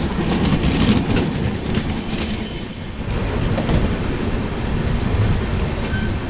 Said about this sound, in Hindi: लखनऊ तेजस एक्सप्रेस।